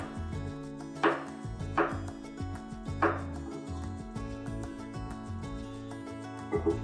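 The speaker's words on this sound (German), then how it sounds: "Die Stücke diagonal in Scheiben schneiden." A knife cuts carrot pieces diagonally into diamond shapes on a board, three or four crisp chopping thuds spaced about a second apart over steady background music.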